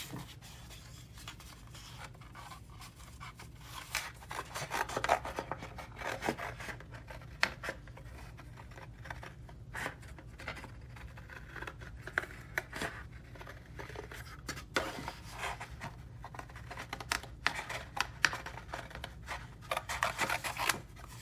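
Small scissors snip and rasp through paper in quick, irregular cuts, close by, with quiet handling noises between them.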